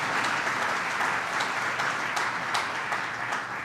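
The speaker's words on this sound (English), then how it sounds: "Let's give them a round of applause." Audience at a New York governor's public announcement event breaking into steady applause, dense continuous clapping from a sizable crowd, loud and sustained throughout with no talk over it.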